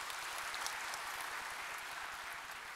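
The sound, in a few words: applause at university graduation ceremony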